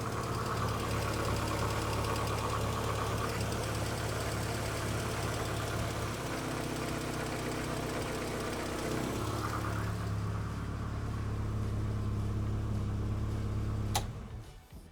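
A car engine with a newly installed Raceworks fuel pressure regulator idles steadily and somewhat high, a continuous close mechanical hum whose pitch shifts slightly midway before it cuts off near the end.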